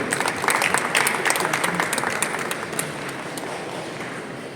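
A large audience at a convention centre opening event in India claps continuously, loud at first and gradually easing off over several seconds.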